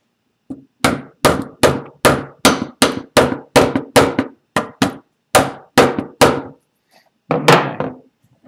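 A hammer taps a FolgerTech FT-i3 Mega 3D printer frame into alignment: about fourteen sharp, close knocks in a fairly even rhythm, then a short pause before a final pair of blows.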